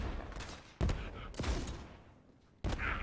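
Torgue pistol firing in Borderlands 3, a few sharp explosive shots spaced apart with decaying booms between them, fairly quiet overall.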